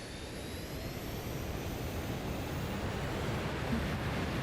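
Steady, even roar of an F-14 jet engine in Microsoft Flight Simulator 2020, a broad constant rush with a faint rising whine, loud and unbroken with no voices.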